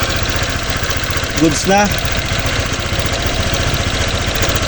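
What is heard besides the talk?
car engine idling without knocking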